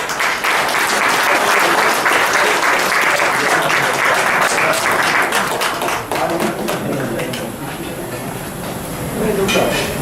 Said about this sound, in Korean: 박수를 주시기 바랍니다